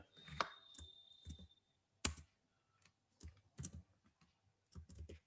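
Typing HTML code on a computer keyboard: several short bursts of crisp key clicks with pauses between them, close and fairly quiet, no voices.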